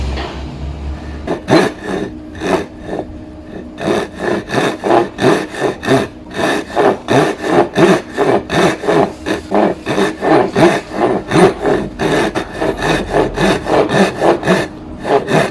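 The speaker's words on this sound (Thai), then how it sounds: "แล้วเราก็มาใช้ด้านที่เป็นฟันเลื่อยห่างนะครับ" Steady rhythmic hand sawing through wood with a Japanese pull saw using the coarse-toothed side, quick regular strokes repeating for the whole stretch, close and loud.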